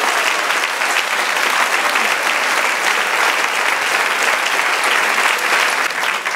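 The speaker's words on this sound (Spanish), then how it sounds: "Dale un aplauso al Señor." Church congregation applauding during a Spanish-language sermon, a loud, dense, sustained wash of clapping that holds steady for several seconds with no break.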